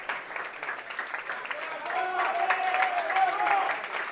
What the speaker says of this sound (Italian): Gli applausi per Alvarez